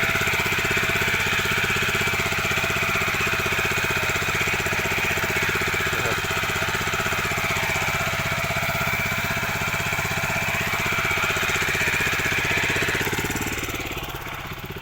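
The small single-cylinder engine of an old Japanese mini walking tractor ploughing soil with a disc plough drones steadily and loudly, chugging at a constant pace throughout, then eases off slightly near the end.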